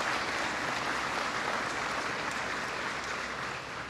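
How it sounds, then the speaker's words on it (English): An audience at a company event applauds, a steady dense wash of clapping that fades slightly toward the end. "So give a big round of applause, would you, for Cajun Industries"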